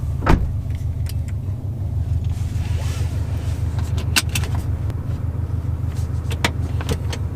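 A 2018-2020 Subaru STI with a Cobb Stage 1 short shifter pulls away on a test drive, its engine droning steadily and loudly inside the cabin while small clicks and knocks come through.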